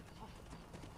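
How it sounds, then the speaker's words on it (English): Horse hooves in Red Dead Redemption: Undead Nightmare, a faint, quick clip-clop of a war horse's steps under the game's ambient sound, close and rhythmic for about a second. "There's my horse."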